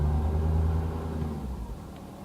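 Ford 6.7L diesel truck engine held at a raised idle, a steady deep rumble that eases off slightly toward the end, close and continuous with no talking.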